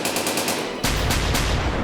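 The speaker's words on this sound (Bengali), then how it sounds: "কে যেন গুলি মারছে গুরু" Rapid machine-gun fire rattles loudly in a cartoon about a bank robbery, a dense burst of repeated shots that grows heavier and fuller partway through, with no talk over it.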